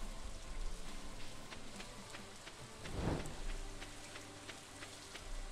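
Steady rain in the Stardew Valley video game, a dense continuous patter of drops with one brief louder swell partway through and no voices.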